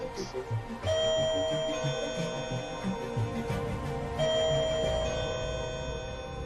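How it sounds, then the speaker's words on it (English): A doorbell rings with sustained electronic tones, sounding twice, over a low mains hum and some muffled background activity. "And then I rang the doorbell"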